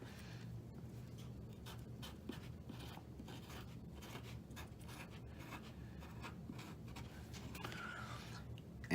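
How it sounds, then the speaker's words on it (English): A marker writes a label on wiring harness tape for a Ford 5.0 EFI harness, giving a quiet, steady scratchy stroking close by, with no talk over it. "So I'm writing HEGO power on it."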